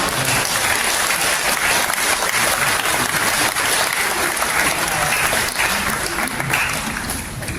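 A congregation at a memorial worship service for General Paik Sun-yup claps in a loud, steady burst of applause that holds evenly throughout, filling the hall without voices on top.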